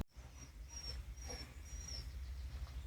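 A puppy whimpers softly in a series of thin, high drawn-out whines, faint against a steady low rumble of background noise.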